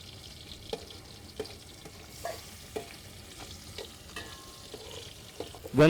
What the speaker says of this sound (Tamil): வெங்காயம் பொன்னிறம் ஆக வர நல்லா வதக்கி விடணும்